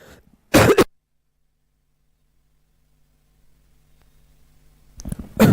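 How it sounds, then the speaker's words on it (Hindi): A single short, sharp cough, followed by near silence and then a faint rustle and another brief throat noise at the end. "सॉरी बीच में खांसी आ गया"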